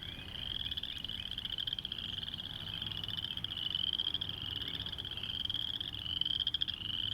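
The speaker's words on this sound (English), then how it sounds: "If you listen very carefully, you can hear the low ribbit of some frogs or" Frogs or toads croak steadily outdoors, a dense continuous chorus of pulsing calls with a bright trilling layer, fairly close and alone without voices.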